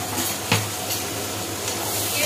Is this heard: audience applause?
no